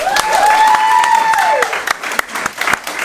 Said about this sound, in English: let's give a round of applause for Chris as well